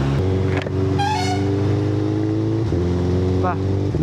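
A 1000cc sport motorcycle engine idling with a steady, throaty exhaust drone, close and loud, with a brief higher tone and a horn-like blip.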